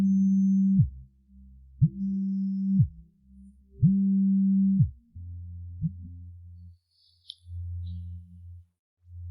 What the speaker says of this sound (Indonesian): Telepon siapa? Kenapa tidak diangkat?